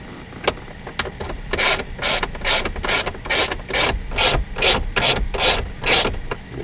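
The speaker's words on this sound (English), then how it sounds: "the next thing we got to do is remove two 10mm bolts" A ratchet wrench backs out the 10mm bolts holding a 1997-2001 Jeep single-DIN radio, with about a dozen rhythmic, evenly spaced ratcheting strokes heard up close and with no talking.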